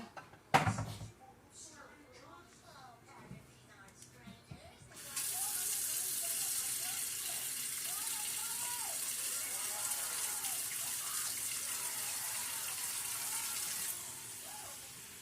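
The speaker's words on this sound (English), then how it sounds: "Now we're going to take some cold water and put it in a bowl." Cold tap water runs steadily into a bowl while homemade butter is being prepared, a constant close splashing flow that starts after some kitchen clatter and continues until near the end, with a voice speaking early on.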